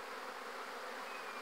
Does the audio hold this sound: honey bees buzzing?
yes